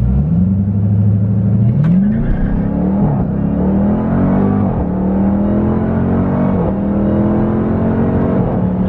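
A Dodge Durango Hellcat performance SUV launches hard, its supercharged engine roaring loudly close by and climbing through several gear shifts, each shift dropping the pitch before it rises again.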